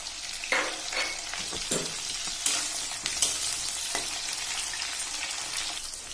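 Whole spices — bay leaf, cinnamon, cloves and peppercorns — crackle and sizzle in hot oil for a duck curry, a steady bright frying hiss with sharp pops and occasional stirring scrapes, close and continuous.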